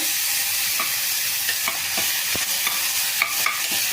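Tomatoes frying in oil for cabbage kurma give a loud, steady sizzle close by, with occasional light taps of a stirring spoon against the pan.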